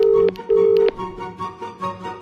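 A phone rings out while someone calls a stranger's number: a steady tonal ring pattern with two clear bursts near the start, then fainter repeating rings with no talking over them.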